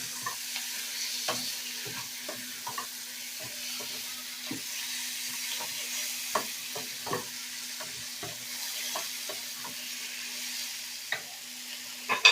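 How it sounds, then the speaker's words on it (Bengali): Chicken pieces are sautéed in a pan for a dhaba-style chicken bhuna, with a gentle continuous sizzle and frequent scraping stirs of a utensil against the pan, fairly close and without talk. "তো এবার চিকেনটাকে কিন্তু আমি ভালো করে কষিয়ে নেব।"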